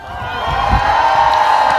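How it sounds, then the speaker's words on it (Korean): An outdoor festival audience cheers and whoops with rising applause, a loud sustained crowd roar that swells and holds across the short moment. "항상 박수 한번 보내실까요?"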